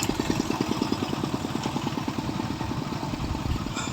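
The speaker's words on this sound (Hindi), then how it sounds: "तो बाइक स्टार्ट करने के बाद यहाँ से हमें थोड़ा RPM को तेज़ करना है" A rebuilt motorcycle engine idles steadily up close after an engine fitting, a rapid even thumping pulse with mechanical clatter, continuous throughout with no voices.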